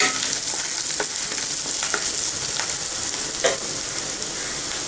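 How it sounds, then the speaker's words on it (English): Chopped onion sautéing in a hot pan for capsicum in cashew nut paste, a steady loud sizzle and crackle with scattered pops and stirring scrapes, close up with no talking. "Now the onions are sauteed."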